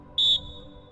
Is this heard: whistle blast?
yes